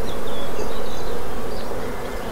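Honeybees swarm around a beehive frame during hive inspection, a dense, steady buzzing hum filling the air close by, continuous and loud with no talk over it.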